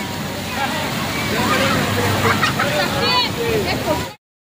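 A waterfall roars steadily as a family wades through it and gets soaked, with excited voices and chatter running over the rushing water the whole time before the sound cuts off abruptly.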